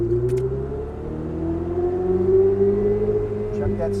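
A Ferrari 488 GTB engine accelerating on a race track, a steady rising drone heard from inside the car with a gradually climbing pitch, moderately loud, with a person speaking briefly over it.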